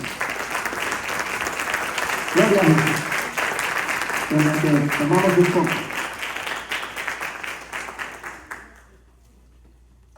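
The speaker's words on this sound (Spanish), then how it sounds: "¿Cuántos pueden dar una ofrenda de palmas al Señor?" A congregation at a church conference applauds the Lord, loud sustained clapping filling the room while a speaker talks over it, then fading out into quiet near the end.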